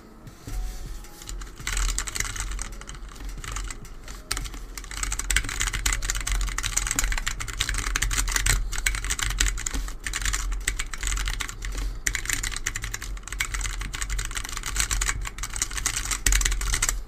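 Fast continuous typing on an Ace XT 40 mechanical keyboard, with dense close clacking keystrokes that run for most of the stretch after a quieter start and have no talk over them.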